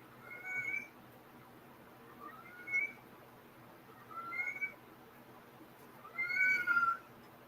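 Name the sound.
cat meowing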